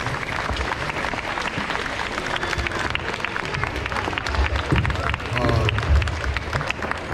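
Standing ovation for a special guest at a Nation of Islam gathering: sustained loud applause from a large crowd, with cheering, crowd noise and voices mixed in and swelling toward the end.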